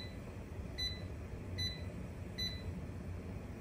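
A kitchen timer gives three short, evenly spaced high beeps as it is set during cooking, thin and faint over a quiet background hum, with no talking.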